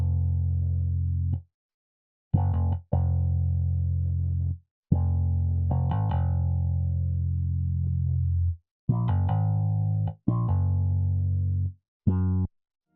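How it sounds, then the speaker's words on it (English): A dark synth bass line for a Detroit-style beat plays alone, with deep sustained notes in short phrases separated by brief gaps and a few clipped stabs near the end. "bass sounds like this"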